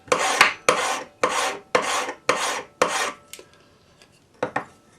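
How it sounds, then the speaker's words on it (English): A flat hand file rasps across silver half-round wire in six even, rhythmic strokes, followed by a pause and two quicker strokes, close and crisp with no talking. "we're going to just take our flat hand file and just file"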